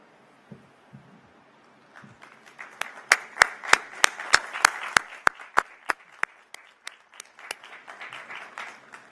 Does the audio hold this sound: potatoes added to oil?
no